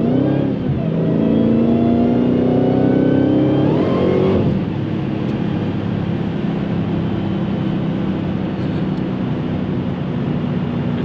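Dodge Hellcat Redeye at full throttle on a night drive, its engine note climbing in a loud, rising roar for about four seconds, then easing into a sustained cabin drone and road rumble.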